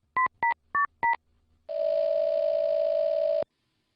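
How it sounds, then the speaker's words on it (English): Four short, crisp telephone keypad tones beep in quick succession, then a single steady tone holds for almost two seconds before cutting off, close and clear with no talking. "I'm going to dial her phone number right now"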